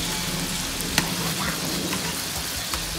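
Rice hits a hot pot in a home kitchen and sets off a steady, dense sizzle. A few faint clicks and taps cut through the continuous hiss.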